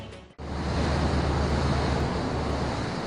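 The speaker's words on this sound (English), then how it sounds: "we see waves breaking on a reef." Waves breaking on a reef far offshore, heard as a steady broad roar that swells in after a brief cut and then holds loud and unbroken, with wind rushing across the microphone.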